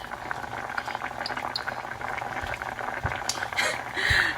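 Carrots simmer in a pot of boiling water, a steady close bubbling and popping that continues throughout with no voices.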